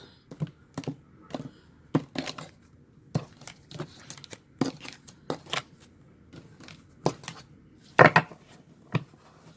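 A tarot deck being cut and handled, a series of soft, crisp card flicks and shuffles at irregular intervals, close and fairly quiet, with no talk.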